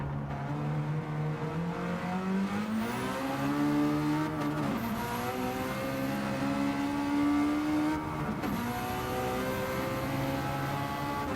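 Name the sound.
engine-swapped Toyota AE86 racing in Gran Turismo 7 video game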